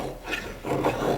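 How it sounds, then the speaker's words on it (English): A D2 steel bushcraft knife shaves hardwood into feather sticks, producing two short close rasping strokes against the wood with no talking. "Making some good hardwood feather sticks."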